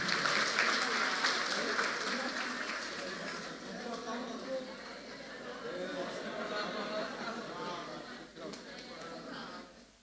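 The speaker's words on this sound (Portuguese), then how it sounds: "Uma salva de palmas para ela" Church congregation applauding at the close of a Portuguese-language family worship service, a steady patter of clapping with chatter and a voice talking over it, fading toward the end.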